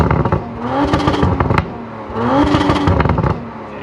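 A 2019 Audi RS5 driven in auto mode, its engine revving up in two loud surges with crackles and clatter between them, heard close and with no voices.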